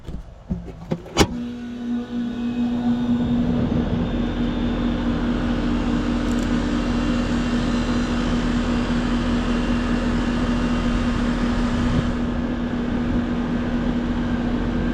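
An air conditioner condenser fan motor starts after power is restored, spinning up after a few clicks into a loud steady whir and hum that holds evenly for the rest of the clip.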